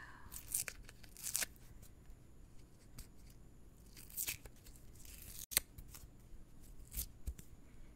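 A reddish-pink crayon's paper wrapper being peeled away up close, giving quiet, scattered tearing and crinkling bursts separated by near-silence, with no talking.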